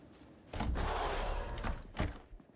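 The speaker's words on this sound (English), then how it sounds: "The sliding door noise." A sliding door opening in Project Zomboid, a single loud rolling slide followed by a heavy thunk as it stops.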